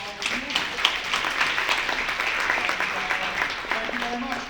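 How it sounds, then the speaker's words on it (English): An audience at a homelessness solutions conference applauds, a broad steady wash of clapping at moderate volume with faint voices mixed in. "So round of applause to all of you."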